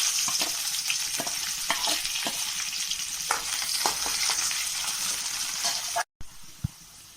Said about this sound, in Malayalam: കടുക് പൊട്ടിയിട്ടുണ്ട് ഇതിലേക്ക് ഞാൻ ചുവന്നുള്ളി വെളുത്തുള്ളി കറിവേപ്പില വറ്റൽമുളക് ഇത്രയും ഇട്ട് വഴറ്റി കൊടുക്കുകയാണ്